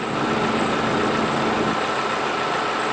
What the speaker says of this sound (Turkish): soketi bağlamadığımız için fanlar şu an güldür güldür çalışıyor